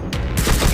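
Rapid automatic gunfire while shooting zombies in the pixel shooter game Pixel Combat, a loud dense burst of shots with a sharp onset and short repeated blasts, no speech.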